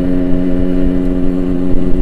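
Yamaha RX-King two-stroke motorcycle fitted with a Boban exhaust, idling loud and close with a steady raspy drone and slight throttle blips, no voices.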